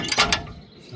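A mechanical bumper jack lifting a 1960 Ford Galaxie Starliner gives a couple of quick close metallic clicks and rattles, then fades to quiet.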